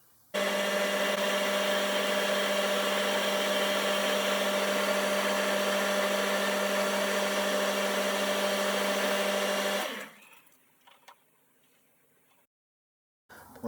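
A metal lathe turns a part's diameter down to 1/4 inch ahead of threading it 1/4 BSF: a steady loud mechanical whine and hum runs for about ten seconds, then winds down and stops, leaving quiet shop noises.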